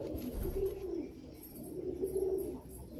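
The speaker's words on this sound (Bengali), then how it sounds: "এই যে একটা পায়রা দেখছেন" Pigeons of Madrasi and Malwai breeds coo in low, throaty rolling phrases, two bursts across three seconds, close and moderately loud with no talking.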